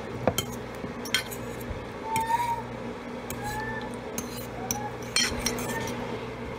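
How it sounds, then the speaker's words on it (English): A fork scrapes and clinks against a bowl while stirring and coating boneless keto chicken wings, giving several light, scattered metallic taps over a low background hum. "just use our fork to kind of stir it around and coat things"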